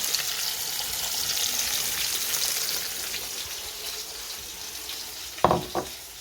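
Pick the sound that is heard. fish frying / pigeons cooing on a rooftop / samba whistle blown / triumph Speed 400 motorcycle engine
fish frying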